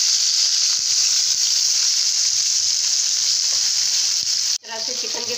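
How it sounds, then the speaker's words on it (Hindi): Chicken with ginger fries in a pan, a loud, steady sizzle that holds for several seconds, then briefly cuts out and returns with crackling, popping spatter. "उसमें डालेंगे और अदरक डालेंगे और इसको अच्छी तरह से भूनेंगे।"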